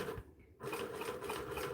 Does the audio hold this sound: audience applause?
no